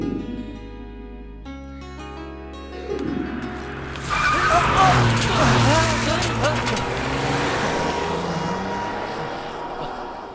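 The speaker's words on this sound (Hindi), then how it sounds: "क्या गाड़ी चलाता है ये?" A car speeds hard with tires skidding and squealing in a dubbed South Indian action film scene, rising loudly out of background music and holding as a long, harsh screech.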